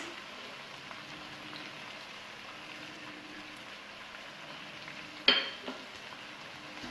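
Green chili paste and spices frying in a pan, a steady soft sizzle throughout with one sharp clatter partway through, no voices.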